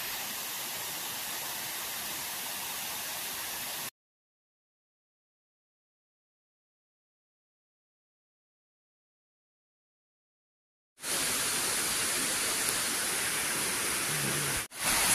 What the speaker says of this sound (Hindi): फाइनली हम लोग पहुंच चुके हैं झरने के पास, और ये देखिए झरना बहुत ही खूबसूरत लग रहा है।